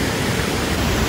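Sogi Falls in Kagoshima, Japan, roars as a steady, dense wash of falling water, loud and close with no pauses or voices.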